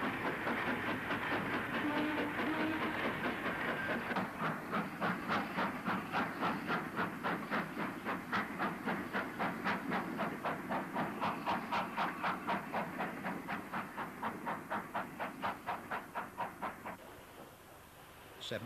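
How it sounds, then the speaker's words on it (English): A British Railways 8F steam locomotive trundles past with a train of low-sided wagons, heard at a distance with a steady rumble and a long run of regular clickety-clack wheel beats that fade near the end. "An 8F trundles past towards Deal Street Box with some low-sided wagons."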